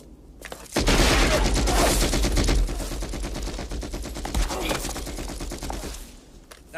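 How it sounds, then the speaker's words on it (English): Gunfire from an action movie scene, a burst of rapid shots and fusillade that starts abruptly after a quiet moment and continues loudly for several seconds before tapering off. "That was a gun."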